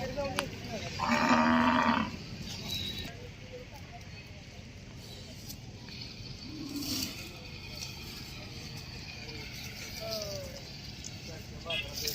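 Bulls at a livestock market moo in a couple of loud, drawn-out lows, one near and one farther off, amid market bustle and people talking.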